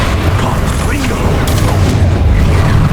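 Fire blast spells explode in rapid succession in Hogwarts Legacy, a dense, continuous roar of loud booms and crackling mechanical clatter with no letup.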